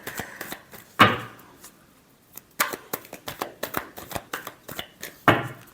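Tarot cards shuffled by hand at close range, with a few sharp riffling slaps and brisk, irregular clicking card sounds between them, no voice over it.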